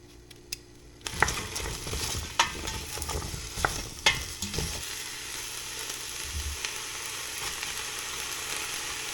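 Squid pieces and lemon peel tipped into a hot pot for a squid ragu, giving a sudden close sizzle of frying with several bursts of stirring and scraping that settle into a steady crackle.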